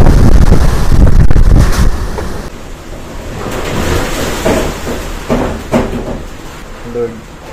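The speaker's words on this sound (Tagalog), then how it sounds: "Lakas ng hangin na nakikita nyo." Strong wind from Super Typhoon Uwan roars and buffets, very loud at first and then easing to gusty rushing with scattered knocks and rattles.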